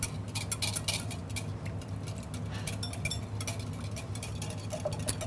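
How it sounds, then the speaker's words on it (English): Olive oil being whisked into a simple summer salad dressing, a rapid run of light metallic ticks and clinks from a whisk against a bowl, close and moderately quiet over a low hum. "we're going to add this while we continue to whisk"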